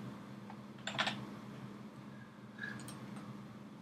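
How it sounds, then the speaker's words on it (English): Quiet keyboard typing of a search topic on a computer, a few short bursts of keystrokes over a faint background hum, fairly soft and close. "I'm going to type in my topic"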